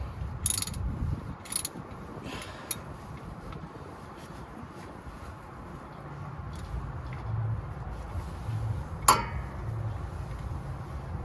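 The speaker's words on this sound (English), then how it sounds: "this is right here a 3/4 wrench" A 3/4 wrench works a bolt loose on a 2015 Mustang 5.0 with over 100,000 miles, giving a few faint ratcheting clicks and metallic ticks over a low background rumble, with one sharper click near the end.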